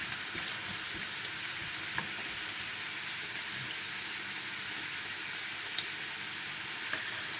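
Carrots simmer in a honey glaze with red wine vinegar in a pan, giving a steady, close sizzle and bubbling crackle with faint pops, alone with no voices.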